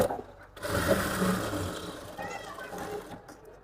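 A sewing machine whirs steadily for about a second while top stitching a blouse, close by, then quiets as a person speaks.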